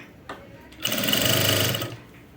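An electric sewing machine runs a steady, fast stitching burst for about a second, close and loud, as folded piping is sewn onto cloth, with a quiet pause before it starts.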